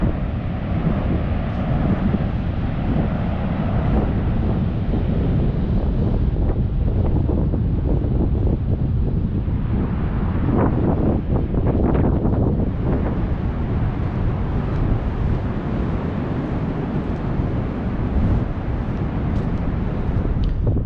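Strong wind on the central Washington coast buffeting the microphone: loud, continuous roaring gusts that swell and ease throughout, with possible surf mixed in and no talking.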